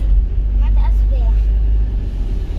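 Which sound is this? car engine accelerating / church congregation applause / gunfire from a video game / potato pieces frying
car engine accelerating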